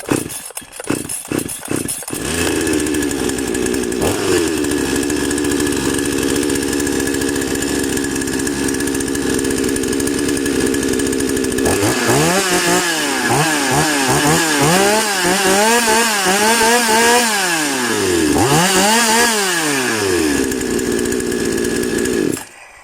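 Gasoline chainsaw with a single-spring heavy pull-start: several quick rope pulls, then the two-stroke engine catches, idles steadily and is revved up and down repeatedly before cutting off, loud and close with no talk.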